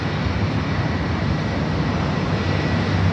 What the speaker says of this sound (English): ANA Dreamliner up next for takeoff